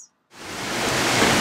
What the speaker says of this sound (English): That is the sound of rain